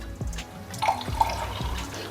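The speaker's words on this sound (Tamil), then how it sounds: "இந்த புளி தண்ணி ஊற்றியே நம்ம இப்போ அதை ஆட்டி கொண்டு வர போகிறோம்" Tamarind water poured in a thin trickle over soaked coconut for grinding masala for a South Indian brinjal curry, close and fairly soft, with a few light splashes and drips.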